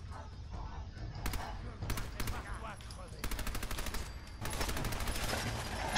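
Machine gun fire in Fallout 4, several rapid close bursts of varying length with brief gaps, over a low rumbling game background with some talk.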